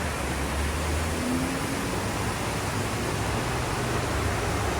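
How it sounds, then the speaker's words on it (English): A brook flows steadily beside a campsite patio on the Appalachian Trail. Its broadband rushing wash stays constant and fairly close throughout, with no voices. "we got to listen to this brook all night long"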